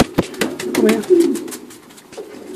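Pied racing pigeons coo in a breeding loft, a steady warbling murmur close by, punctuated by wing flaps and scuffles, while someone speaks briefly.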